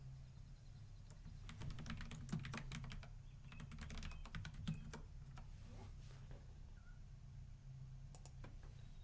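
Quiet typing on a computer keyboard, an uneven run of soft, close key clicks in small bursts over a low steady room hum.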